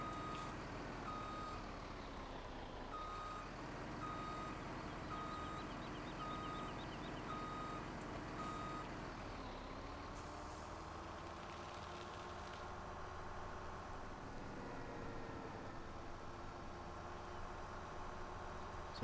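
A truck in a farming video game backs up, its reverse alarm beeping steadily over a constant engine drone for nearly twenty seconds, with no talk.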